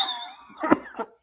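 A single sharp cough lands briefly over the tail of a man's speech on a sports preview show, followed by a small second burst, close and fairly loud.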